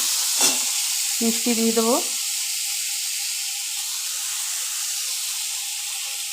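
Snake gourd and potatoes fry with coconut, salt and turmeric in a pan, giving a steady, close sizzling hiss throughout, with a few spoken words briefly heard at the start.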